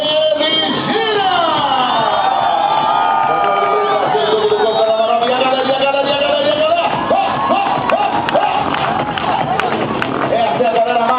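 A dense crowd roars, cheers and whoops continuously at a motorcycle stunt show in Mossoró, Brazil, loud and sustained with an announcer's voice over the top, whistles and shouts rising through the noise.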